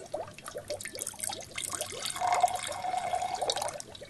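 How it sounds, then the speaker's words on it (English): Water pours into a glass in a small demonstration setup, a soft, close trickle and splash that builds steadily over about four seconds with no talking. "Into the first one, I will pour water."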